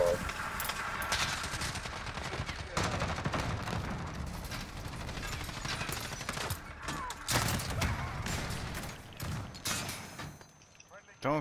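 Sustained automatic gunfire from a Call of Duty: Modern Warfare match, dense rattling bursts almost nonstop with explosive cracks, loud and close, thinning out near the end.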